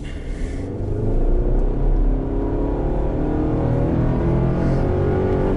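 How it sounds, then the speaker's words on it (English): A 2023 GMC Canyon midsize pickup with a 310-horsepower turbocharged engine accelerates at full throttle, its engine rumble and roar staying steady and loud for several seconds with no talking. "I'm gonna slow down just a little bit, and then I'm gonna floor it."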